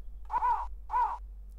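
Two loud crow-like caws from the 1993 DOS game Cannon Fodder, each lasting about a third of a second with a short gap between, heard alone over a low steady hum.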